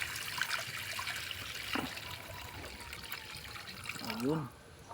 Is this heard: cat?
no